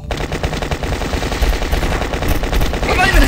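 Rapid, continuous gunfire from the video game Last Stand 2 rattles loudly and evenly throughout, with shots firing in quick succession.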